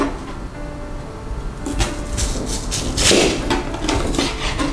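A knife chops jicama on a cutting board with a quick, uneven series of close, crisp knocks and thuds against the board, starting after a quiet moment and continuing steadily.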